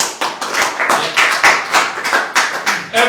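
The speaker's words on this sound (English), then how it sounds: "Give me a clap." A workshop audience gives a brief round of clapping, heard as a quick string of sharp, evenly spaced hand claps from a small group, close by and with no talking.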